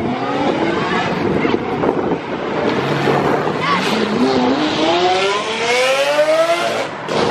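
Turbocharged supercar accelerating hard away from a car meet, loud rising engine roar with climbing gear pulls and a brief tire chirp, close by, with people shouting and cheering over it.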